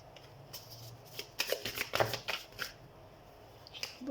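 Tarot cards are shuffled by hand in quick, crisp riffles and flutters, close and fairly quiet, with a cluster of shuffling sounds in the middle.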